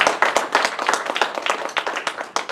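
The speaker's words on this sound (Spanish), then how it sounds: "Denle un aplauso al Señor." A church congregation claps during a Spanish-language Sunday service, sharp separate hand claps at first that quicken into dense, steady clapping from many people, close and lively throughout.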